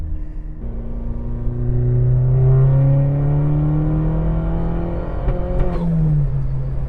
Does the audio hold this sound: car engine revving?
yes